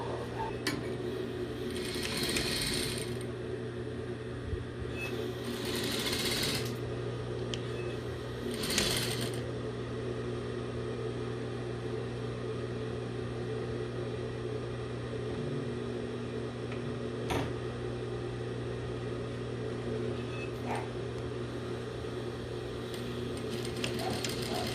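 Sewing machine stitching the shoulder seams of a basic blouse: several short bursts of rapid mechanical whirring, separated by quieter pauses with faint handling clicks, soft and close, with no talk.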